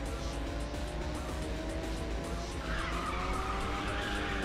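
A race car engine in the Ridge Racer 6 video game roars at steady high revs with rising gear whine, then a sustained tire skid squeals over it in the final stretch, loud and continuous.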